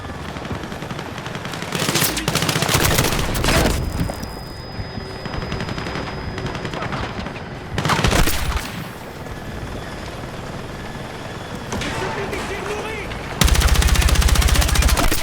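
Heavy gunfire in the video game Battlefield 6 comes as loud, dense bursts of rapid automatic shots in several stretches, with a constant rumble of battle noise between them.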